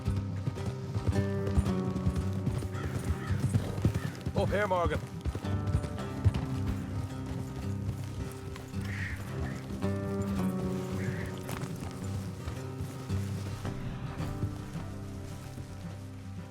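Horses clip-clop at a gallop along a trail in Red Dead Redemption 2, hooves drumming steadily under rain-like ambience, with characters talking over the ride.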